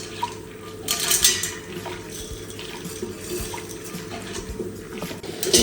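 Honey glaze stirred in a pot while popcorn kernels are added: continuous wet scraping and stirring with light clinks and rattles against the pot, fairly close and steady, with no talking.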